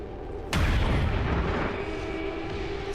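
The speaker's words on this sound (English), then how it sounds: "I think that was the sound of the Codex dying." A Codex enemy dies in the video game XCOM 2 with a sudden loud burst, a booming crack that rings out and decays into a sustained rumbling wash.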